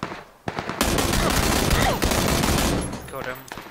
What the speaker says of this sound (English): I shot his head off.